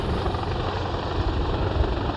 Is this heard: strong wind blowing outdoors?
no